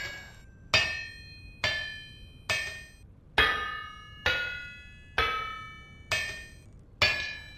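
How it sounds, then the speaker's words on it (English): Iron bloom hammered on an anvil in the game Vintage Story, eight sharp ringing metallic strikes at a steady, roughly one-per-second rhythm, each blow decaying before the next, loud and close with no talk. "And this is just hammering away like crazy."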